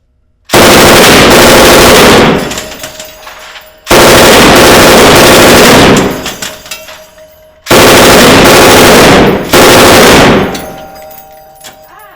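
A fully automatic firearm fires three long, very loud bursts in a row, each a dense roar of shots lasting a couple of seconds, with echoing decay and brief pauses between bursts.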